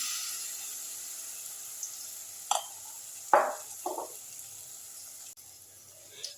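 Banana pitha, a soft sweet snack, frying in a pan of oil and ghee: a steady low sizzle with a few louder spatters and scrapes rising briefly above it.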